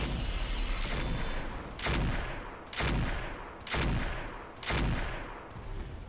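Weapon fire in the mech combat video game Roguetech: four heavy booming shots at a slow, steady pace, each loud and close with a long rumbling decay over a constant low battle drone.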